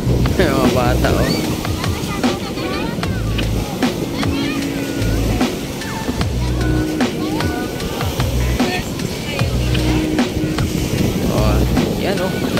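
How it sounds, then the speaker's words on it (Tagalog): Heavy surf churns and crashes in a steady roar at Dolomite Beach on Manila Bay, with gusty wind noise and occasional voices talking over the water. "Lakas ng alon"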